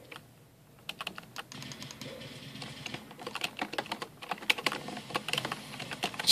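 Rapid clicking of a computer keyboard being typed on, its keys tapping in uneven bursts that grow busier and louder, close up and with no talking.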